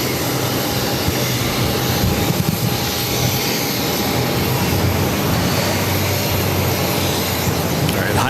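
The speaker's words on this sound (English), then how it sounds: "That is a Cessna 402C with Cape Air, flight 525." A Cape Air Cessna 402C twin-engine plane taking off at Boston airport gives a steady, loud, broadband engine roar with a thin high whine, holding constant throughout.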